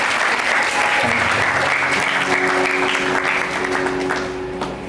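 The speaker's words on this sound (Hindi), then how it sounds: "मैं चाहता हूं कि आप सब जन एक दूसरे के लिए ताली बजा दें" An audience at a church gathering claps steadily and loudly throughout, a dense continuous wash of applause that eases slightly toward the end.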